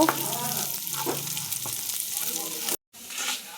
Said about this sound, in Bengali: চালটাকে নাড়াচাড়া করে একটু লাল লাল করে ভেজে নেব।